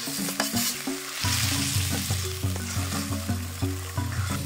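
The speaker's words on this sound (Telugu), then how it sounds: "ఒక 5 నిమిషాలు స్టవ్ పైన మీడియం ఫ్లేమ్లో అట్లే ఉడికించాల" Gongura chutney paste sizzles and fries in a village-style pan on a medium flame, with a steady hiss and repeated scraping stirs throughout and no talking.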